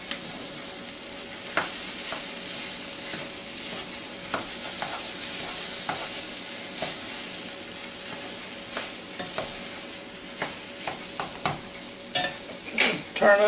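Stove Top stuffing is stirred in a Gotham Steel pot, a soft background sizzle punctuated by frequent scraping and tapping of a utensil against the pot, growing busier and louder toward the end, with no talking.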